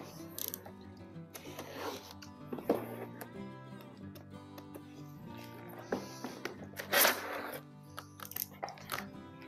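Packaging for a Leatherology full grain leather tote bag is opened up close, with crinkling, rustling and tearing in bursts and zipper-like scrapes. A few faint murmured reactions can be heard.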